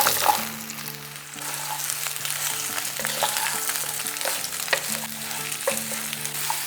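Spiced ridge gourd frying over a high flame, stirred now and then: a loud, close, steady sizzle broken by repeated scrapes and clinks, with a faint tonal hum underneath and nobody speaking.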